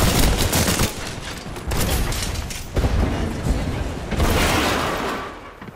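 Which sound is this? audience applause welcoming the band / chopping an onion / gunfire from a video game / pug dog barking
gunfire from a video game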